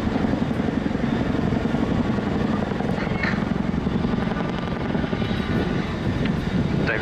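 A Chinook helicopter departs backwards at a seaside airshow, its twin rotors and engines producing a steady, heavy rumbling drone that holds at even loudness throughout.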